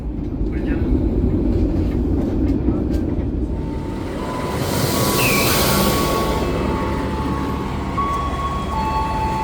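The Dharmawangsa Express passenger train runs at night from Surabaya Pasar Turi toward Pasar Senen, a steady loud rumble of wheels on rails with a thin whine rising midway, heard from on board.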